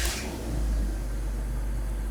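A repaired BMW engine idles smoothly and steadily, a close, even low rumble with an initial brief hiss, no voices.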